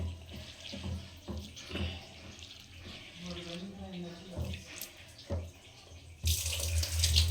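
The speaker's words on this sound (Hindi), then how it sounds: "अच्छे तरीके से हम दाल को इस तरीके से धुल देंगे" Homegrown organic lentils (dal) being washed in water in a home kitchen; a low voice murmurs through the first part, then water splashes and sloshes loudly near the end.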